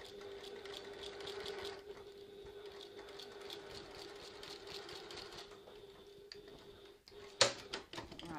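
A sewing machine runs steadily along a seam on a City Tote bag panel, a close, even mechanical whir for about seven seconds before it stops and fabric is briefly handled.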